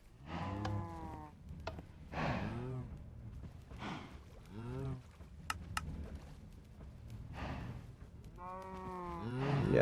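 Cows low repeatedly in the video game Minecraft, a series of loud, close moos spread across the whole stretch with short gaps between them and no talking.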